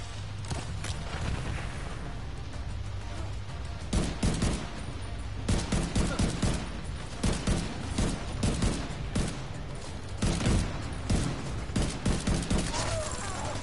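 Sustained gunfire rattles through a firefight in The Division 2, with dense bursts and volleys repeating loudly across the whole stretch.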